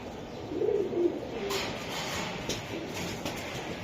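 Racing high-flyer pigeons give a few low, throaty coos up close, followed by scattered shuffling and handling noises against steady background hiss.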